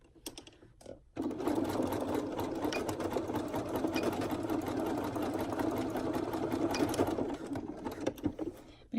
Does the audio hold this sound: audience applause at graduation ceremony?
no